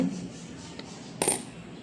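Old Indian coins being handled give a single sharp metallic clink partway through, brief and fairly close, against quiet background hiss with no talking.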